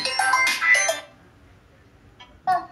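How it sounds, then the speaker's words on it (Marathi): A mobile phone plays a melodic ringtone for an incoming call, a bright tune for about a second that stops, then resumes briefly near the end. "फोन आलाय तर रिसिव्ह करू"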